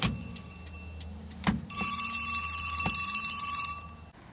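An old telephone rings with a bright metallic bell inside a 1934 Chevrolet speedster, a sustained trilling ring over a low engine-like hum, preceded by scattered clicks and knocks, fairly close and loud.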